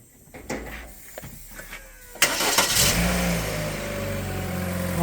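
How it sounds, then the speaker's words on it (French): Car engine with its accessory belt removed, no water pump drive, being started: a few faint clicks and rattles, then a sudden loud catch into a steady running drone that settles into an even idle, with no talking. "On va lancer le véhicule pour confirmer."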